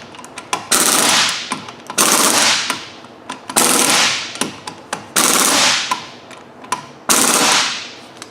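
An air impact wrench tightens lug nuts on a Dodge Dakota 2WD during a front brake pad job. It fires in loud, close bursts: several long rattling runs separated by short, sharp taps.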